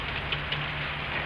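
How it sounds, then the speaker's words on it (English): Steady heavy rain pours down outdoors, a dense continuous hiss close by with a few faint drop taps and no talking. "It is pouring the rain."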